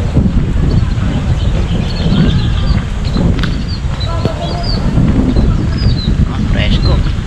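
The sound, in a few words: wind blowing into the microphone outdoors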